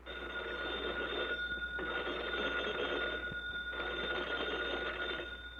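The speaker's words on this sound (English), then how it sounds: "the phone bell rang." An old-fashioned telephone bell in a small-town volunteer firehouse rings loud and close in two long bursts with a brief pause between them, its metallic clatter steady and insistent.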